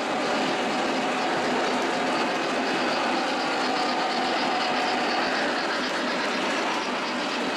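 A Lionel model train, the J-Class 611, runs along its track with a continuous loud rolling rumble and hum of wheels and motor that stays steady and close for the whole stretch.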